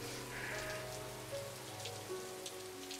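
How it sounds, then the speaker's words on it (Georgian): Steady rain pours down in a radio play, a dense continuous hiss of drops on a surface that fills the whole moment at low, even volume with no voices. "როცა წვიმდა"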